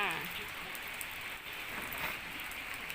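Rain falling steadily, a dense, even hiss of drops with slight swells over a few seconds.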